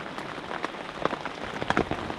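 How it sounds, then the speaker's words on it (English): Steady rain during Storm Henk on the shore, a dense patter of drops hitting the ground and gear close by, with no voices. "when it stops raining,"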